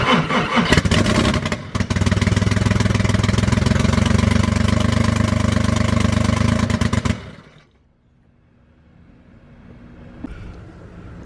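A VW VR6 engine cranks and catches, running with a loud, dense clattering roar for about seven seconds before shutting off abruptly into near silence.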